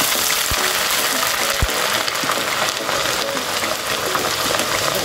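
Peanuts fry steadily in a hot pan over lowered, medium heat, giving a dense continuous sizzle with a couple of brief low thumps, close and loud throughout.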